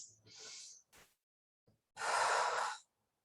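A person seated in a chair takes slow, audible breaths: a drawn-in inhale, a brief pause with a small sniff, then a long, breathy exhale close by.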